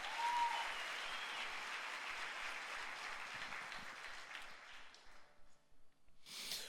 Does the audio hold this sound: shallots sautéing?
no